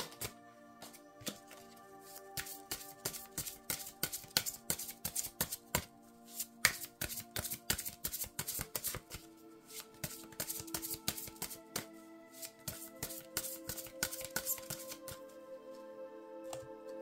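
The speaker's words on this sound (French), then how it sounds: "je vais battre les cartes" Tarot cards are shuffled by hand in rapid, crisp riffling bursts of close, sharp flicks and snaps that repeat in quick rhythm without any speech.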